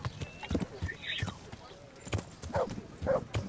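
A horse's hooves clip-clop in the video game Kingdom Come: Deliverance, an irregular series of soft thuds at moderate distance, with someone talking over them.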